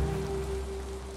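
Steady rain falling in the Valheim game world, a constant even hiss of drops with a faint low tone underneath, with no voices.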